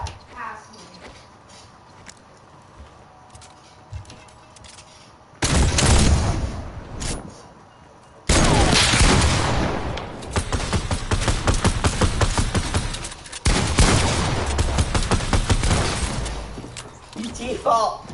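Burst-heavy gunfire from a video game erupts loudly after a quieter stretch, coming in dense sustained volleys with brief gaps, while players talk over it.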